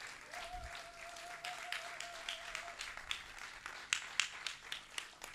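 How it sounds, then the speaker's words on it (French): Audience applauding at the launch of the Croisement Walo 2024 festival, a faint, distant patter of clapping that swells with a few sharper claps toward the end, with a steady tone running beneath the first half. "je vous demande d'applaudir et de reconnaître"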